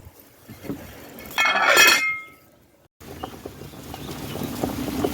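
Pumpkin and other vegetables go into a pot of Jamaican corned beef soup, with a bright clinking clatter of pieces striking metal, a brief silence, then softer bubbling and knocking.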